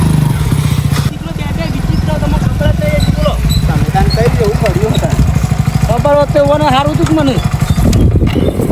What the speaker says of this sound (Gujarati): હે વિપુલભાઈ ફટાફટ બાઇક ચાલુ કરજો